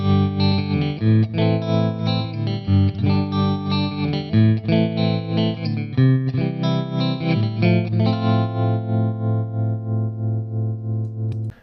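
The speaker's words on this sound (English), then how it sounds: "wouldn't it sound more amazing if it's a little old school tremolo?" Clean electric guitar run through a Tonex pedal with old-school tremolo and a touch of reverb, chords pulsing in a steady rhythmic wobble, loud and close with no talking.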